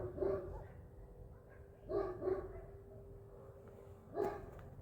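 A dog gives a few short, faint barks in separate bursts, with a quiet background between them.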